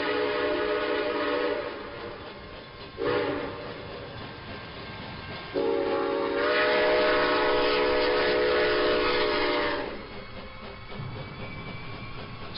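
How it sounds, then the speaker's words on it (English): A train rolls along its rails in a horror-podcast sound effect, with a rumbling, clattering run and several sustained horn-like tones that stop and restart across the span. "Step inside, take a ride upon the terror train."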